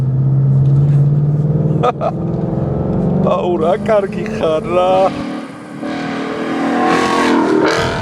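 A Ford Mustang 5.0 engine revs and pulls hard under acceleration, its loud, rising growl climbing in pitch close by while someone talks over it inside the car.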